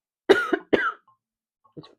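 Two sharp coughs in quick succession, close and loud, followed by a brief pause and a softer short cough.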